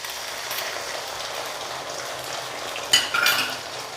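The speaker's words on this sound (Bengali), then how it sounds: "2 মিনিট ভালো করে একটু কষিয়ে নেব" Onions fried with ginger paste sizzle softly in a pan, a continuous frying hiss broken near the end by a few sharp metal scrapes and clinks of a spoon stirring against the pan.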